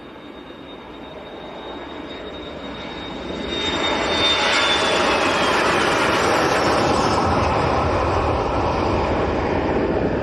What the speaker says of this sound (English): Little Jet2 737-300 Classic on the roll.